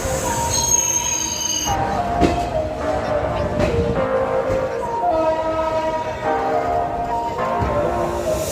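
Sealdah-Rampurhat Maa Express running on the line, with a loud, continuous rumble of rolling carriages cut through by repeated high-pitched wheel squeals rising and falling close by.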